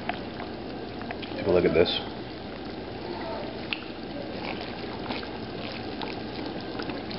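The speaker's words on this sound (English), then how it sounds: "start reducing the sauce a little bit. Just kind of boil it down and get some of that extra liquid out of it." Sauce for southwest pulled pork tacos boiling down in a pot, a continuous close bubbling and simmering with a louder burst near the start, while a person speaks briefly.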